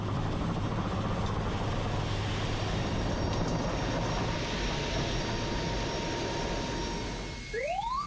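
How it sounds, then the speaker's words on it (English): Constant heavy drone of C-130 aircraft engines in flight during a cargo drop, a loud, steady propeller roar with a sustained hum, a brief rising whine appearing near the end. "dropping cargo and equipment from a moving C-130 in the air"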